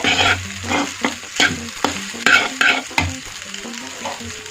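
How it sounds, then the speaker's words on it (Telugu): Spices for lemon rice fry and get stirred in a pan, with repeated scraping strokes over a steady close sizzle and no talking. "ఈ విధంగా మనం బాగా ఫ్రై చేసుకుని మొత్తం అంతా కలుపుకోవాలి"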